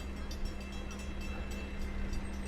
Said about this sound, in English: the regularly scheduled Speonk to Babylon train about to pull in now.